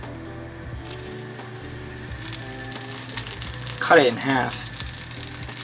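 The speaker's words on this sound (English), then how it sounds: "Hear that sizzle?" Butter sizzling in a hot cast iron pan, a steady close frying hiss that swells briefly midway as food is added, with someone talking over it.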